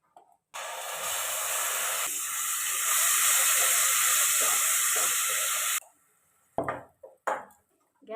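Masala paste hitting hot oil for an achari jackfruit curry bursts into a loud, steady sizzle and hiss lasting about five seconds, then drops away to quiet with a few short sputters.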